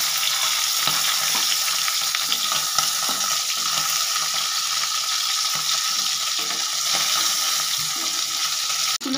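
Tangra fish fry in hot oil, a loud, steady sizzle with light crackling that runs without a break until a brief handling noise at the very end.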